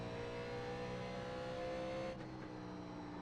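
A 1987 NASCAR stock car in an iRacing simulation accelerates around Bristol with a steady droning engine note that cuts off abruptly near the end.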